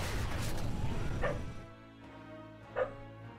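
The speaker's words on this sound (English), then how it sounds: "Sorry if you can hear my dogs barking." Dogs barking in the background, two sharp, fairly distant barks standing out over a busy mix of game sounds and other noise.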